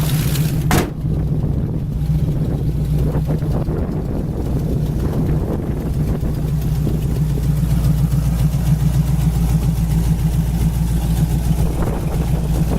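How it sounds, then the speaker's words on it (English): 1968 Chevy Camaro with a built 350 V8 and headers running at a steady idle, a low, even throb close to the microphone with wind buffeting and a sharp knock near the start. "The engine runs excellent."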